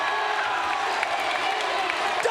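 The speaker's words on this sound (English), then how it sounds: "The crowd goes crazy." Loud wrestling arena crowd at a TNA Final Resolution match cheering and roaring steadily, a dense wall of voices with scattered whoops and shouts throughout.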